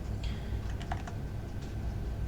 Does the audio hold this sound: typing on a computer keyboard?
yes